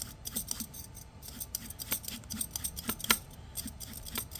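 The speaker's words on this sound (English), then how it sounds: "We got a seedless cucumber here. We'll give this a quick peel." A seedless cucumber is peeled with quick, rhythmic scraping strokes, each a crisp close swipe repeated many times in a row, with no voices.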